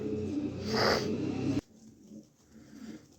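A pair of white racer pigeons, one male and one female, with a fairly loud, close cooing or rustling burst lasting about a second and a half that cuts off abruptly, followed by quieter, faint bird sounds.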